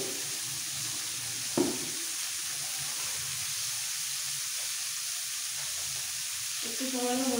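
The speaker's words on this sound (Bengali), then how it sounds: "গাজর, বিনস, মটরশুঁটিটাকেও ভালো করে ভেজে আলাদা করে রাখবো।" Carrots, beans and peas seasoned with salt and turmeric fry in a wok with a steady close sizzle, one sharp clatter early on, and a voice briefly heard near the end.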